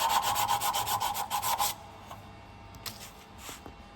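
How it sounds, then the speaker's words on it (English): Sandpaper rubbed back and forth along a wooden hoe handle in a quick rhythmic series of rasping strokes close by, then stopping and giving way to a few faint handling sounds. "Take the sandpaper,"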